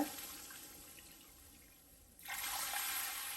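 Two cups of water poured into a pan while making bread halwa with country sugar, a steady splashing pour that grows louder partway through, heard alone without talk.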